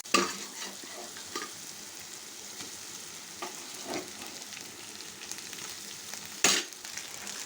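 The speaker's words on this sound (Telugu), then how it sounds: "ఇప్పుడైతే మనం అన్నాన్ని దీనిలో వేసేసుకుందాం" Rice tossed and stirred in a hot pan for coriander rice, a steady close sizzle of frying with scraping stir strokes and a sharper clatter near the end, no talking.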